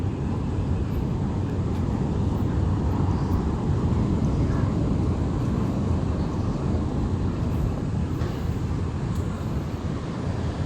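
A continuous low rumble rolls steadily throughout as a light rail train passes close by along the Pasig River esplanade, with no talking.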